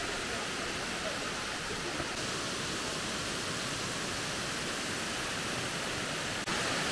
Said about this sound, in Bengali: কতটা ওপর থেকে পড়ছে দেখুন ঝর্ণাটা